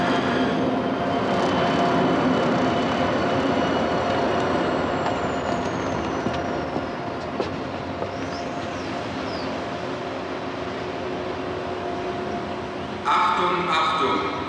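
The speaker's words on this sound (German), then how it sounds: "Der Zug läuft gleich ein." A train pulls into a station in a 1987 German crime drama, a steady rumbling rolling noise with faint squealing. Loud and continuous, ending with a brief clatter.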